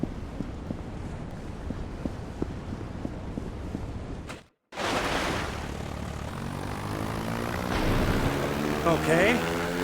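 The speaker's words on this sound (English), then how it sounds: "what respectable man in Nevada doesn't need a seaplane?" Seaplane propeller engine in the Gangster Vegas video game, a steady droning hum that drops out briefly midway, then returns louder and rougher with a rising engine tone toward the end.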